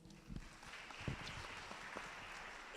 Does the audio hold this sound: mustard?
no